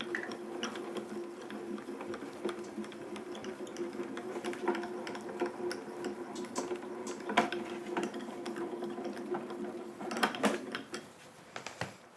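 A Grand Calibur die-cutting machine cranked by hand as a base plate, shim and embossing plate pass through: a steady, quiet mechanical whir with faint clicking that runs throughout and eases off near the end.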